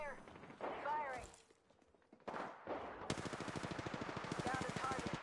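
Automatic gunfire in a PS4 first-person shooter game, a rapid sustained burst of loud shots filling the second half, preceded by brief talk and scattered game sounds.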